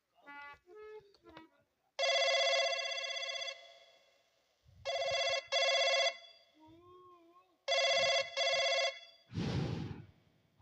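A telephone rings loudly in long electronic bursts, pausing between rings, with a brief rustle at the end.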